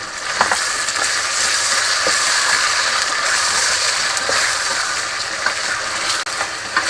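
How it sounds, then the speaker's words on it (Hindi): Garlic-ginger paste frying in a pan with chicken for a chicken masala, giving a loud, steady hiss and sizzle close by with faint clinks from stirring. "और ये 1 टेबल स्पून लहसुन अदरक का पेस्ट इसमें गया। थोड़ा सा इसे भी मैं फ्राई कर लूँगी।"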